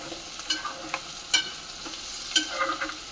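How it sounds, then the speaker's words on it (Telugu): Onions fry in oil in a pan, a close crackling sizzle broken by scattered stirring clicks and scrapes of a utensil, with no voices. "ఇదిగో ఇందులోనే ఉల్లిపాయలు వేసేస్తున్నాను అనమాట."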